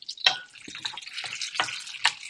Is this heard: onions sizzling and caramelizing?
yes